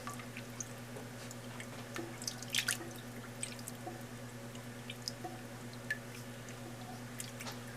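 Cheddar cheese curds stirred in warm whey, soft sporadic drips and wet squishes of liquid over a steady low hum, quiet and close.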